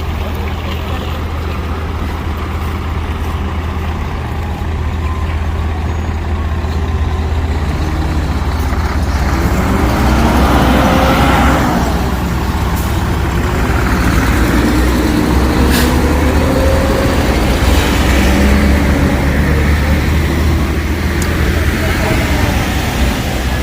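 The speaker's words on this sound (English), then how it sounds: "they're bringing food and all the goods here by ferry. Those are cargo trucks, and I see they're from supermarkets" Heavy supermarket cargo trucks roll off a Fred Olsen ferry arriving on La Palma from Tenerife, a continuous loud engine rumble with a ship's drone beneath and engines swelling as vehicles pass close.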